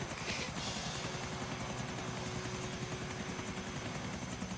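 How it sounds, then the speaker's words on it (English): Helicopter in GTA IV video game, steady rhythmic rotor chop with a continuous engine whine, close and constant, no talking heard. "We're in a helicopter."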